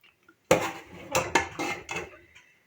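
A serving spoon scrapes and clanks against a metal pot four or five times as green masala vegetable curry is dished out, with short close metallic knocks.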